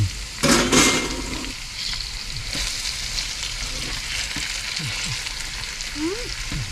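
Food sizzles and fries steadily in a pan on a small stove inside a camper van, a continuous crackling hiss with brief stirring scrapes and occasional faint voices in the background.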